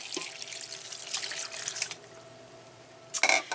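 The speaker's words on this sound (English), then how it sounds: "I've got 2 cups of water that's going on top of the cabbage." Two cups of water poured over cabbage in an Instant Pot, a close splashing, trickling pour with a few sharper splashes near the end and no talking.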